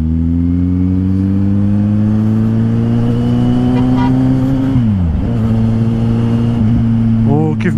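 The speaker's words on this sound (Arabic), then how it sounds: "نخلي الموتور يبقى ديما مزير" A car engine revs hard and steadily up close, its pitch climbing, dipping briefly around the middle, then holding high again, with a voice talking over the constant drone.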